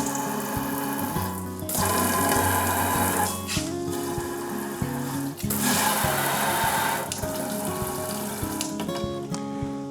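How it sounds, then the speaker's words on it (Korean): Water pours steadily from a waterfall-style six-way kitchen faucet in an apartment kitchen, a continuous close splashing stream with a brief dip before resuming, no voices. "수전 같은 경우에는 요즘 유행하는 이제 폭포수 수전인데요"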